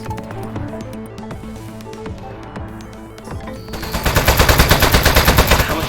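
Rapid gunfire in the video game Aperture Desk Job, starting over a busy background and swelling into a loud, dense burst of repeated shots in the final seconds, with no talking.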